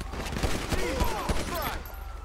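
Video game gunshots ring out as a few sharp, separate cracks over steady background noise and radio-style chatter during an FBI patrol mission against mafia members, fairly close and punchy.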